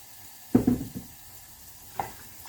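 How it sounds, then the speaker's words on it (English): Oil sizzling in a hot saucepan as pad Thai sauce is started, a sharp hiss rising at once then fading, followed by a smaller second sizzle, close and quiet otherwise. "my saucepan's hot. I put the oil in."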